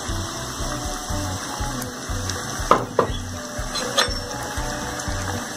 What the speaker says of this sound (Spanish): Vamos a dejar que se acitrone un poco antes de incorporar el jitomate.